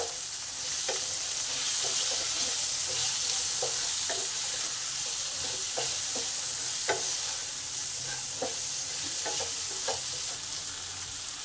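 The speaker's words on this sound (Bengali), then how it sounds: "নুন আর হলুদটাকে ভালো করে আলুতে মিশিয়ে নিলাম" Potatoes tossed with salt and turmeric in a pan, a steady soft sizzle with scraping stirs and light clinks of the spatula, close and alone without voices.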